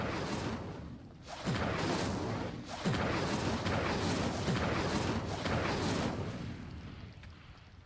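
An Incendio fire spell in a wizard video game goes off in several loud whooshing, roaring bursts that swell and fade over a few seconds, each burst layered over the last, with no voices.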